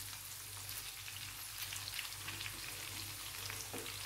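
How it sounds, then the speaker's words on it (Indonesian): Spices and aromatics for a chicken garang asem sautéing in a pan, a soft, even sizzle that runs steadily throughout with a few faint crackles, no voices. "Lalu kita tumis bersamaan ya. Tumis bersamaan sampai harum."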